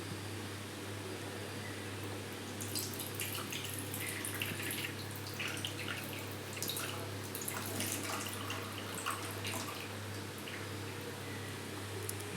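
Water draining off cooked ridge gourd in a village-style kitchen, a steady close trickle and patter of dripping over a constant low electrical hum, with no talking.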